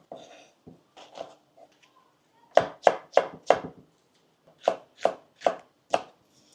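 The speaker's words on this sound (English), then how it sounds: "So first I'm going to cut my onion, just halfway slice it, and going to slice the red peppers" Onion and red peppers sliced with a knife on a cutting board, a few light cuts followed by two crisp runs of four sharp, evenly spaced chops, close with quiet pauses between.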